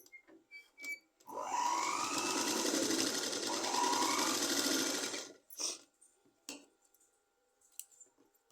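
A sewing machine runs in one steady burst of about four seconds, stitching straight fabric strips onto a blouse neckline, followed by a few brief clicks and handling sounds.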